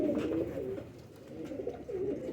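A pigeon coos softly and repeatedly, low rolling calls close by over faint background noise.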